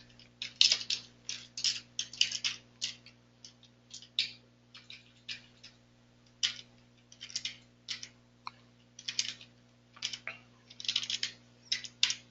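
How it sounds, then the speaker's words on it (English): Someone types on a computer keyboard in quick, irregular bursts of soft clicks with short pauses between words. The room is quiet and no one speaks. "We're just going to type in the relevant information"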